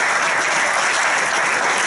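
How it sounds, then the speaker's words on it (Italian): A crowd at an Italian political gathering in a hall claps in continuous, loud, even applause that holds steady throughout. "Quindi un grande applauso e lo ringraziamo."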